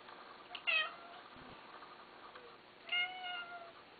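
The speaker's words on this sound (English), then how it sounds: "Cat in this cage doesn't seem to like other cats." A cat in a cage meows twice, a short mew followed by a longer drawn-out one, fairly close but soft in a quiet room.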